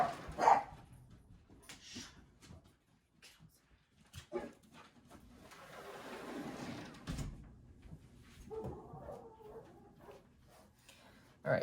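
Several dogs bark and whimper in bursts indoors, with a door sliding or thumping and a long rustling scrape in the middle, loud and close in places.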